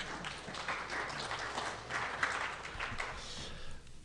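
A crowd at a DaVinci Resolve user-group presentation breaks into scattered, moderate applause that carries steadily for a few seconds and then tapers off at the end.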